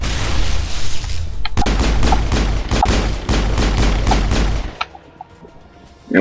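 A big gun fires heavily on Virmire in the Mass Effect video game, with loud, booming repeated blasts over a deep rumble that cut off abruptly into quieter game sound.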